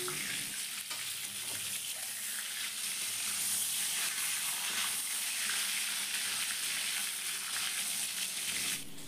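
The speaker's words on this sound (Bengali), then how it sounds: "এখন পটলগুলোকে খুব ভালো করে তেলের মধ্যে ভেজে নিতে হবে।" Pieces of pointed gourd (potol) fry in hot oil in a wok, giving off a steady, even sizzle that carries on unbroken and fairly close.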